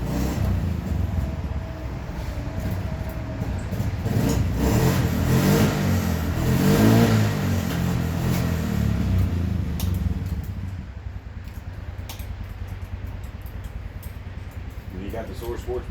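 A Polaris Sportsman ATV in barely working condition idles and revs, a rough mid-pitched engine that swells louder mid-clip before settling back, with people talking over it.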